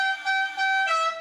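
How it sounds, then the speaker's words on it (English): A car horn at a Dukes of Hazzard cast reunion barbecue sounds one loud, bright, sustained honk with a brief wavering dip, close and alone. "Honk the horn, Biscuit."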